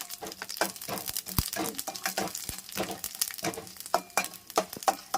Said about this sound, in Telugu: చూసారా పప్పులన్నీ చిప్పట్లాడుతున్నాయి